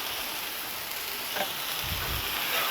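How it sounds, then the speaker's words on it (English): Onions saute on a 36-inch Blackstone griddle fitted with a hood, giving a steady, close hissing sizzle with a few soft scraping stirs near the end. "I can go ahead and get some onions sauteing on this side"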